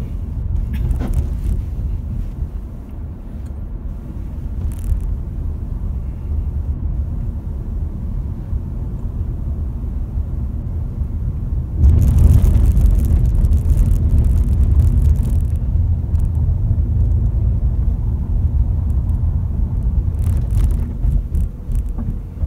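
Interior of a 2017 Toyota Corolla Altis V rolling up onto a bridge at about 30 to 40 km/h without braking, with a steady low engine and road drone that swells midway through, no talk.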